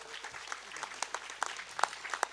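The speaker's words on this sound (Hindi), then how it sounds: "अभी ये लोग ताली बजा रहे हैं ना" Audience applause at a Hindi religious discourse and yajna gathering, faint and scattered claps continuing for a couple of seconds in a distant, low-level patter.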